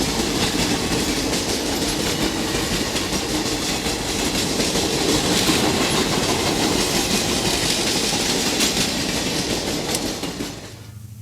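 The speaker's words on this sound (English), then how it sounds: "The one and only westbound Cannonball leaves Milwaukee with a load of commuters." Amtrak's westbound Cannonball passenger train pulling out of Milwaukee, loud rolling rumble with rhythmic wheel clatter and brief squeals, sustained for about ten seconds before dropping off abruptly.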